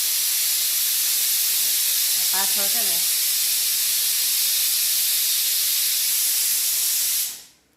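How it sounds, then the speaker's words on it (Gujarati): Loud, continuous steam hiss from a pressure cooker whistle in a home kitchen fills the whole clip, and a brief voice speaks over it before it cuts off. "કુકરની સીટીઓ વાગવા માંડી છે"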